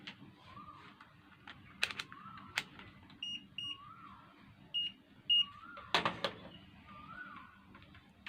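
Short electronic beeps sound as a desktop computer's power switch is pressed during a repair, several separate tones at moderate level over a low steady hum, with clicks and handling noise between them.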